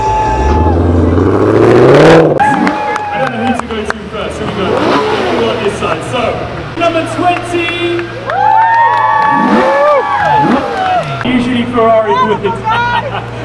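A crowd at a car meet cheers and whoops in bursts while an announcer talks over the noise, with revving car engines rising underneath, lively and close.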